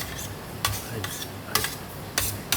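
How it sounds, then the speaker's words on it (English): Sambar being stirred into a masala dosa on a plate, giving a few quick, light scraping clicks at irregular intervals over a steady background hiss, close and fairly faint. "Get the sambar over here. All right, mix it around just to get all the flavors together."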